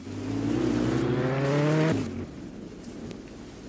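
Car engine in a Roblox video game revving loudly with a steadily rising pitch for nearly two seconds, then cutting off abruptly to a low rumble, heard up close over background noise.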